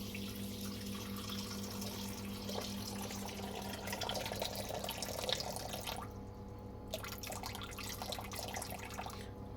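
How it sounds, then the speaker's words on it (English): Room-temperature water poured from a tap or jug into a bowl sitting on a kitchen weighing scale while making pizza dough, a steady splashing trickle over a low hum, with no talking. "We just need to pour water."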